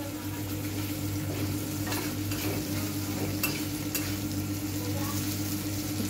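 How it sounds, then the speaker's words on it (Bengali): Pangas fish pieces frying with chili and onions in a black nonstick wok, giving a steady sizzle with a low continuous hum throughout and a few faint clinks of a utensil, with no voices. "ঝাল পেঁয়াজ আর 2 পিস পাঙাশ মাছ ছিল, ঝাল পেঁয়াজ দিয়ে ওটা ভাজা হচ্ছে এখন।"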